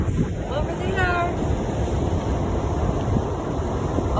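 Waves roll and wash onto a beach in a steady broad rush, with wind buffeting the microphone throughout and no clear pauses between surges.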